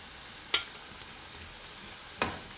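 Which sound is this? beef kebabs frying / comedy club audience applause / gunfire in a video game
beef kebabs frying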